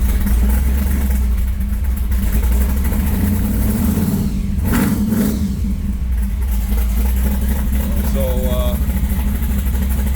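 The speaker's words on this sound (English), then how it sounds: "roll the starter, and then flip the ignition on." A Pro Street Chevelle with a side-pointing exhaust idles loudly with a steady, heavy low rumble and a brief rise in the middle, while someone speaks over the engine throughout.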